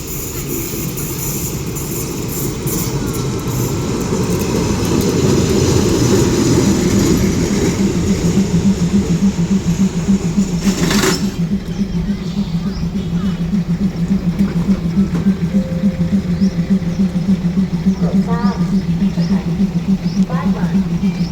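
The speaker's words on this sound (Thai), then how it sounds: "ขบวนรถท้องถิ่นมาแล้วนะครับ" A train rumbles into the station, its steady droning engine and rhythmic wheel clatter loud and close, with a faint horn-like tone later.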